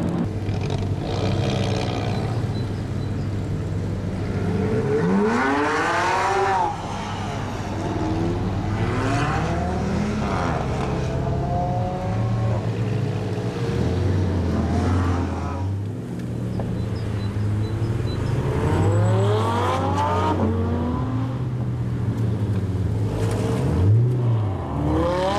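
A supercar engine accelerates hard inside a tunnel, loud rising and falling revs echoing off the walls through several gear changes, close and sustained over about twenty-five seconds.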